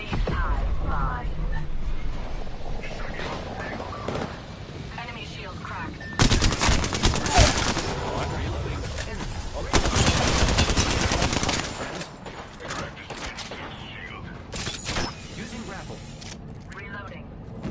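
Gunfire in a first-person shooter video game: loud sustained bursts of automatic fire with sharp reports and mechanical clatter, rising in dense volleys partway through over a continuous game soundscape.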